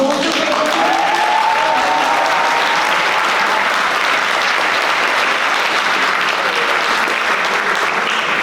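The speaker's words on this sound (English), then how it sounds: "Please also give a round of applause for the delegate of the United Kingdom" A room full of people applauding at a Model United Nations closing ceremony, steady and loud throughout, with a brief faint tonal ring near the start.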